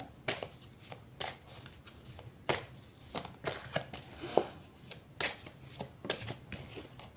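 A deck of oracle cards is riffled and shuffled by hand in a run of crisp, papery flicks and rustles with small slaps between them. The sound is close and fairly quiet, and no one speaks.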